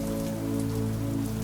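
Steady rain patters against a window, a dense continuous wash with a low tonal hum running beneath it throughout.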